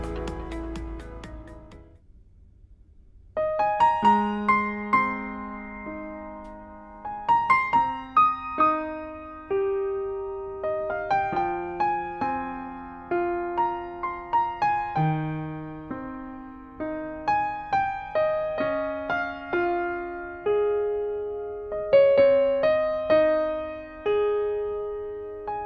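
Solo piano playing the first section of a piece in an intermediate arrangement, a single low note followed by a flowing, gently arpeggiated melody with sustained chords, clear and close with no talking.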